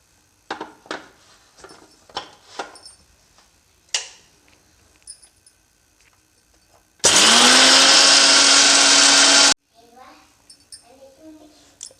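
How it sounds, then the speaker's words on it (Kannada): A mixer grinder powders roasted spices for North Karnataka biranji rice, a loud steady whirring burst of a couple of seconds framed by clinks and handling noises, with a voice talking before and after. "ಈಗ ನಾನು ಇದನ್ನ ಪುಡಿ ಮಾಡ್ತಾ ಇದ್ದೀನಿ"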